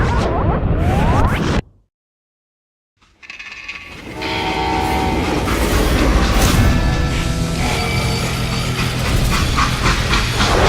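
A steam-era freight train in the Wild West shooter Call of Juarez: Gunslinger rumbles loud and close, with a horn or whistle blast and clattering wagons that resume after a brief total silence near the start.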